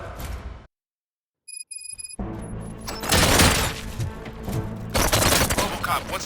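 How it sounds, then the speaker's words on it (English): A rapid burst of gunfire erupts during a tense corporate meeting scene, dense crackling shots with shattering impacts following a brief silence and a few electronic beeps, loud and sustained for several seconds. "Gunshots?"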